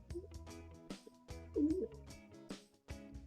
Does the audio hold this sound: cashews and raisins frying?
no